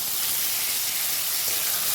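Cut potatoes sizzle in hot oil, giving a dense, even hiss that holds steady and close throughout, with no voices over it.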